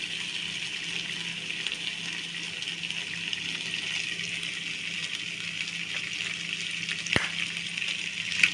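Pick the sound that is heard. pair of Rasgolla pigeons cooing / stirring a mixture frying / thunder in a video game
stirring a mixture frying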